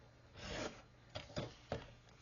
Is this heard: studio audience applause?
no